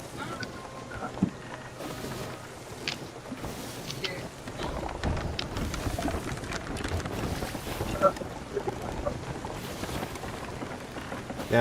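Sailing ship crossing open water in the Sea of Thieves video game, with a continuous wash of wind and waves and occasional creaks and splashes, steady and moderately loud throughout.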